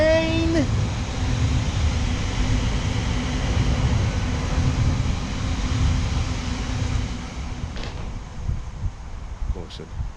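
Train passing near a railway embankment in Wellingborough, a broad steady rumble and roar holding through most of the span before easing off, with a voice calling out over it near the start.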